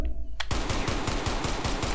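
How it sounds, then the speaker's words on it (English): Rapid fire from a 1911 pistol in Black Ops Cold War with a rapid-fire mod, a fast, even stream of loud, close shots after a short pause. "Now it's the 1911 pistol."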